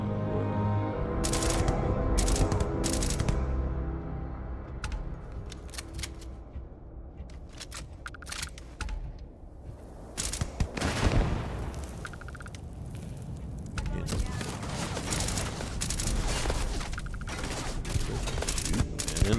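Bursts of enemy gunfire in the space shooter Starfield, repeated sharp volleys and booming blasts scattered across the stretch, some close and loud, others thinner, with gaps of quieter game ambience between.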